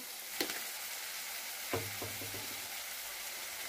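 Chopped onions frying in hot oil with salt added, a steady soft sizzle with a couple of brief stirring clatters from a utensil in the pan.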